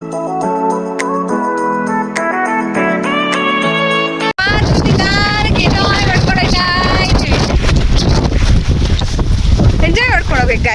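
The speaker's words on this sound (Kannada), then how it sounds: "ಏನು ಮಳೆ ಬರ್ತೈತೆ, ಗಾಳಿ" Monsoon wind and rain on a hilltop: a few seconds of music give way to loud, roaring gusts buffeting the microphone, with voices faintly mixed in.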